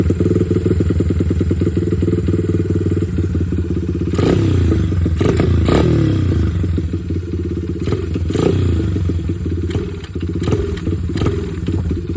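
A 2007 Honda CRF80 dirt bike engine idles steadily with a loud, close, rapid putter, rising in a few short revs and clattering thumps over about twelve seconds.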